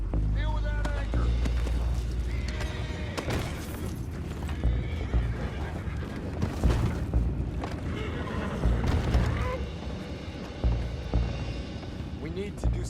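Horses neigh and whinny with clip-clopping hooves in the video game Red Dead Redemption 2, loud and close amid booms, water and commotion, with people talking over it.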